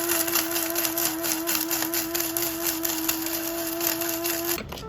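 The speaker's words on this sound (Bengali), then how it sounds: "এই 3টা ব্লেন্ড করে তারপর আমি এটা বিরিয়ানিতে দিয়ে দিব" An electric blender grinds almonds, cashews and peanuts for beef biryani, a steady loud motor whine running without a break, then cutting off near the end.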